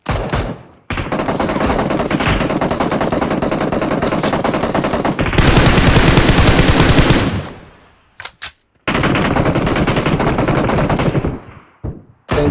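Loud, close automatic gunfire in the battle-royale game PUBG Mobile, long sustained bursts of rapid shots broken by short pauses and a final few scattered rounds.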